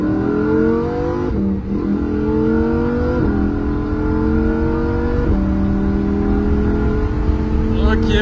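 A Lamborghini Huracan Evo accelerates hard from a standstill. The engine is loud and close, and its pitch climbs steadily, dropping briefly at each gear change before rising again.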